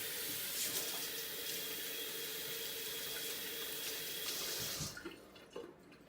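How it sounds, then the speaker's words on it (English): Tap water runs steadily into a kitchen sink while hands are rinsed, a close, constant splashing rush that stops, leaving faint drips and small clatters. "I need to rinse off my hands"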